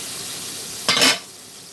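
Bacon and tomatoes hit a hot non-stick pan with a short, bright sizzling burst that flares for a moment and then settles back into a low hiss.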